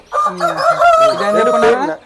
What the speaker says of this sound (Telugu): ఇది జపనీస్ బ్యాంటమ్